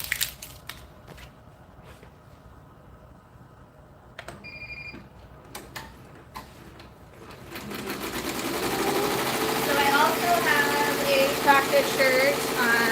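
A sewing machine stitches satin stitches onto a shirt, starting with sparse clicks and taps, then building into a steady, fast whirring run that grows louder toward the end.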